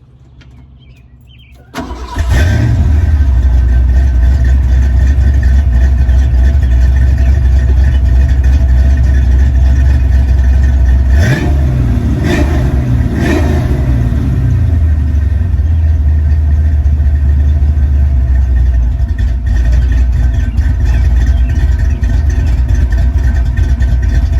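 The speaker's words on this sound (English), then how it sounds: "we'll fire this thing up" A car engine with 4.10 rear gears fires up from quiet, then settles into a loud, deep, steady idle with a few brief revs around the middle before holding a constant rumble, close and alone with no talk.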